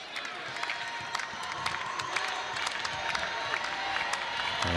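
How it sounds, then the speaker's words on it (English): Louisville fans in an arena crowd raise a subdued, nervous cheer during an NCAA first-round volleyball match, a steady wash of scattered claps and voices with sharp squeaks and thuds on top. "And a little nervous cheer comes from the Louisville faithful."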